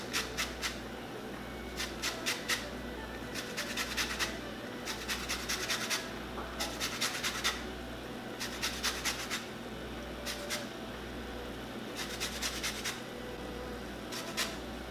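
Limes being zested for Thai green curry with shrimp, a dry scratchy rasp in repeated short bursts of strokes, fairly close and moderately quiet, with pauses between bursts and no talk.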